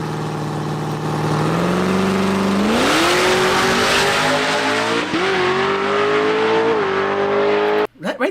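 Camaro with independent rear suspension making a loud drag strip pass, engine roaring and climbing steadily through gears over several seconds before cutting off abruptly at the end.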